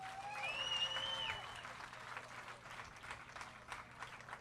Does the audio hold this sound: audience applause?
yes